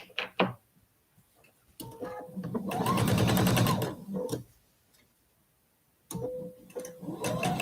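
Sewing machine stitching a quilt border strip, running in short bursts with a rapid mechanical stitch rhythm, a longer run in the middle, and soft handling clicks between, close and moderately loud.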